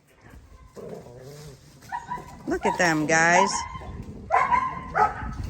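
Small puppies on a little farm in Ghana play together, giving high whimpers and yips that rise and fall in short bursts, while someone talks over them close by.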